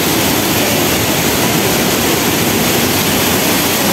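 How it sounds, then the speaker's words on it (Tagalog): A waterfall in Hong Kong Park, beside a fountain and a small man-made cave, pours in a loud, steady, close-up rush of falling water that never lets up. "Falls pala siya guys"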